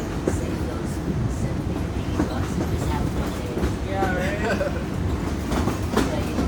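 The Disneyland Railroad train runs steadily on its rails, with rumbling wheels and clickety-clack joints plus occasional faint squeals, heard from on board at night.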